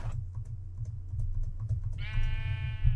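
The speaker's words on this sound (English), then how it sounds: "I heard a sheep." Sheep bleating in Minecraft, one nasal, wavering bleat arriving after a stretch of quiet keyboard clicking and game ambience, fairly clear over the low background.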